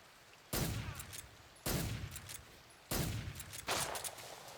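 Four sharp pistol shots crack out one at a time at spaced intervals in Metal Gear Solid 3, each followed by a short decaying echo.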